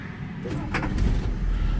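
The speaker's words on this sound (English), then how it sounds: "Just touch the key, it starts fine." Engine of a 1969 Lincoln Continental Mark III cranking and catching with the key on a chilly morning: keys jangle briefly, then a low, steady rumble builds and holds close by.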